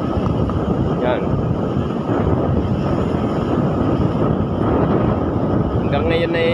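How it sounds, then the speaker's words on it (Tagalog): Strong typhoon wind blows at sea, a loud, steady roar buffeting the microphone throughout, with faint background sounds near the end. "hanggang ngayon ay malakas pang hangin"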